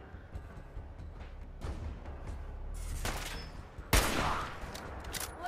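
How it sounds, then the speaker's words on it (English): Hunting rifle shots ring out in the video game Fallout 4, a few sharp cracks with one loud blast standing out, set against a dense bed of game background noise and rumble. "Use the hunting rifle."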